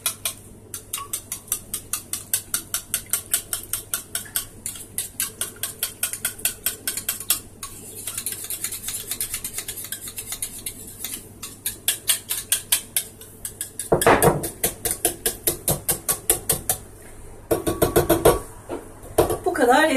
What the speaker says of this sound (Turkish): Yoğurtla yumurtayı ikisini bir çırpıyorum.